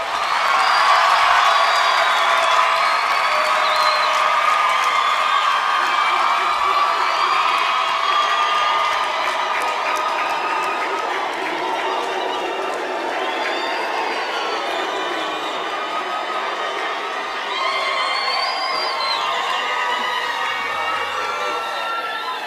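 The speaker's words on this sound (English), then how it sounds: "Ladies and gentlemen, give yourselves a round of applause." A large graduation audience in Windhoek cheering, shouting and whooping loudly and continuously, a dense roar of voices that eases slightly midway before swelling again.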